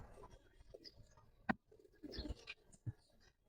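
Male khoyra-necked Giribaz pigeon: a few brief, soft coos and small clicks scattered across near-quiet, with one sharper burst at the very end.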